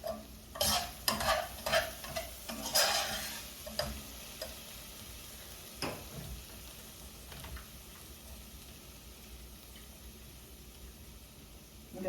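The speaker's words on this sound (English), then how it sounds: "I'm going to stir it until the soup is all in." A spoon stirs cream of mushroom soup into hot unsalted stock for baked turkey necks, a run of sharp scrapes and clinks over the first few seconds, then a faint simmering hiss that carries on quietly by itself.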